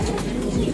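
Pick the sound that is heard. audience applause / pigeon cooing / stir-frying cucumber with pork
pigeon cooing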